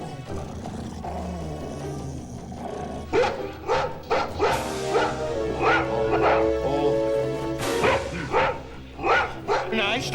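A dog barks in a run of loud, close, repeated barks with growly, roaring edges, starting after a few seconds of low rumble.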